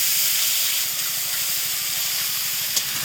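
Ground spice paste and a little water hitting hot oil, a loud, close, continuous sizzling hiss with a faint rhythmic bubbling underneath and one sharp spit near the end.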